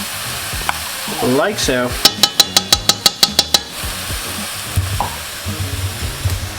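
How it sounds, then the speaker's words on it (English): A host's chili with Hunt's tomato paste is stirred in a pot on a Kamado Joe grill, with a bright run of about ten rapid, evenly spaced metallic scrapes of the spoon over soft sizzling, and brief talk at the start. "Now we're gonna mix all this together for another couple minutes"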